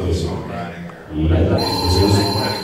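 A telephone bell rings with a bright, sustained trill that begins partway through, heard beneath ongoing conversation.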